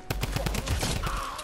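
Drum gun firing in Fortnite, a rapid burst of close, evenly spaced shots rattling off for about a second.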